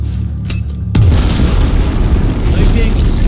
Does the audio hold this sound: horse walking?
no